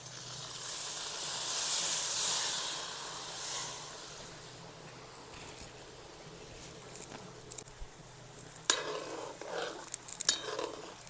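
Okra frying in hot oil in a pan: a strong hiss and sizzle that swells early, then settles and fades, followed by a few clinks of a utensil against the pan near the end.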